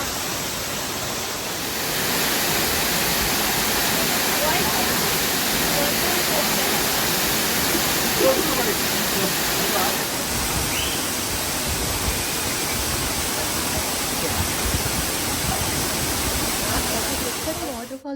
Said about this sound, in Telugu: వాటర్ ఫాల్ దగ్గరికి వెళ్ళినప్పుడు ఏంటంటే అక్కడ రాళ్ళు తడుస్తూనే ఉంటాయి కదా కంటిన్యూగా